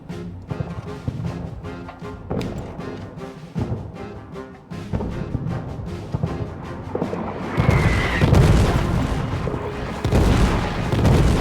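Artillery firing in the World War I trench game All Quiet in the Trenches: heavy booms thud repeatedly over a tonal music bed, then the barrage thickens into a loud, continuous rumble of shelling in the final seconds.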